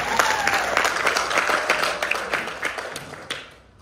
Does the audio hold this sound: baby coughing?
no